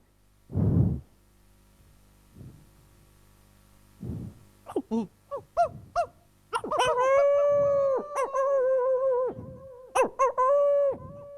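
A dog howls in a drawn-out, wavering wail that starts after several short barks and yelps, moderately close and clear, with a quiet pause between sounds.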